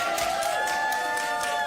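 Audience applause and cheering for Charlene Banks at a Morrisania event with NY mayor Mamdani, a steady wash of clapping and crowd noise filling the short stretch with no speech over it.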